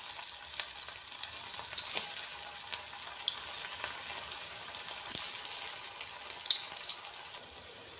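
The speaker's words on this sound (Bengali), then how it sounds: "এবার সর্ষের তেলটা ভালো করে গরম করে নিয়ে মিঠাগুলো দিয়ে দেব।" Muitha dumplings fry in hot mustard oil in a wok, giving a continuous fine sizzle with scattered crackles and a couple of louder bursts, close up and without voices.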